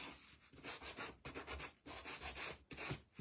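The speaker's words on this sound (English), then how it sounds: "I just got my gator sander, and we're going to give these a little bit of a distressing." A Gator electric sander distressing small wooden kit pieces for a primitive snowman decoration, buzzing in three close, loud bursts with short gaps between them.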